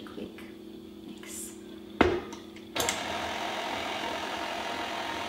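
An electric mixer whips cream for a meringue Napoleon cake. After a low hum and a couple of sharp knocks, it starts with a jolt and runs as a steady, close whirring drone to the end.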